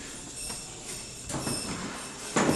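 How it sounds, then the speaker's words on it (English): Chairs being moved around a room: soft scraping and a few knocks and bumps, fairly faint and in the background, with a sharper clatter near the end. "there's some chairs being moved"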